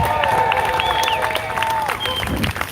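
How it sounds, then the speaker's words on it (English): Crowd applause and cheering at an outdoor poor people's protest rally at the Texas State Capitol, a steady dense clapping wash with scattered whistles and voices running the full length. "let's give another round of applause for our second round of speakers"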